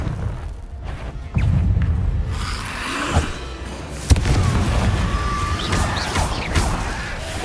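A Confringo blasting spell in Hogwarts Legacy goes off as a sudden loud burst, followed by a crackling, rumbling roar and a second sharp impact, all sustained for several seconds.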